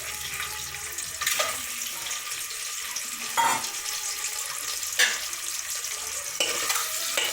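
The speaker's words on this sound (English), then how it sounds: "just give a bit of stir so that all the oil seeps into the egg" Boiled eggs stirred through hot red-chili masala oil in a pot for Indian egg biryani, a steady close sizzle broken by several louder scraping stirs, with no talk.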